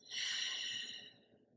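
A single long, soft breath exhaled through the mouth during a Goddess Hatha yoga session, close and airy, fading out over about a second.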